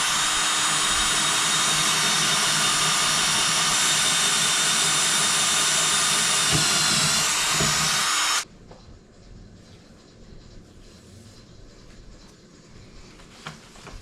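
A power drill bores a hole with a 3/8 inch bit under a desk, its loud, steady whine running for about eight seconds before cutting off abruptly into quiet room noise with faint handling sounds.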